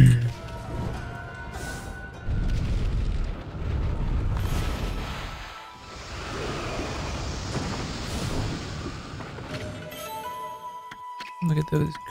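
Creep cannons fire in the video game Okami HD, booming as heavy rumbling blasts in several bursts, with game clinks and chimes around them and a person talking over parts.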